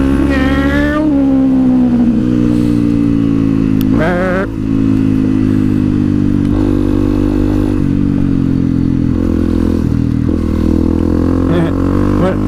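A supermoto motorcycle rides down Rock Creek Road in North Georgia, its engine revving up and shifting through gears loudly and close, with rising and falling pitch sweeps and steady wind rush throughout.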